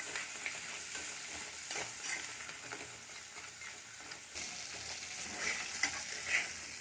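Crab pieces fry in oil with salt and turmeric for an Odia village-style crab curry, giving a continuous close sizzle with occasional stirring scrapes and small pops, and no talking.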